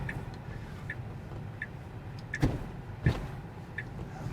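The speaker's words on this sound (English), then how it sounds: "Okay, so got the right blinker on now." A Tesla's turn signal ticks in a quiet cabin, soft regular clicks repeating about every two-thirds of a second, with a couple of louder thumps breaking in.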